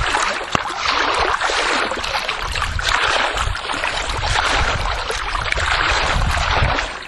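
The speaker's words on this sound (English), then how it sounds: "It definitely is water." Water in a backyard pours and splashes without a break, a broad hissing rush that stays loud and steady, with no voices over it.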